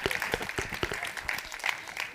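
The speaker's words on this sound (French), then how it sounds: "On applaudit encore Kenosha avec nous, mesdames et messieurs." Audience applause at a Christmas cooking event, scattered but lively clapping with distinct individual claps, fairly close and continuous for a couple of seconds.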